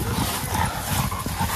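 Very large dogs, around 140 to 150 pounds, bark repeatedly in a fast, deep, loud volley close by, several barks overlapping in quick rhythm.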